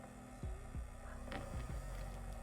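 A tiny battery-powered makeup brush washing machine runs with a low steady motor hum and throbbing whir, punctuated by a few soft thumps and clicks as the brush spins, close and fairly quiet with no talking.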